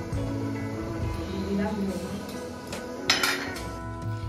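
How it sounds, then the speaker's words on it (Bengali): Cooking pot being covered with a lid while mutton kosha cooks: metallic clinks and a scrape of the lid on the pot ring out under ongoing talk, with a sharper clatter near the end. "তো মা এটাকে ঢাকা দিয়ে দিচ্ছে।"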